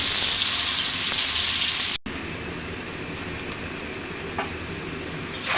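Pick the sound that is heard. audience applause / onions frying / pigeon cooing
onions frying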